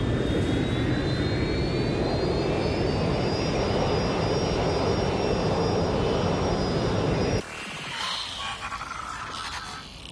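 A rerouted prisoner plane in Watch Dogs Legion drones with a loud, steady jet roar and rising whine, then cuts abruptly to a quieter, muffled cabin hum with faint clicks.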